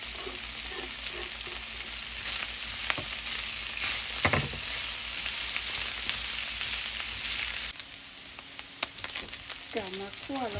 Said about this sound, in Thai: กลับมาคั่วลงไปพี่น้องให้เขามีความหอมความมันเปลี่ยนสีเป็นสีบราวน์หน่อยนึงนะ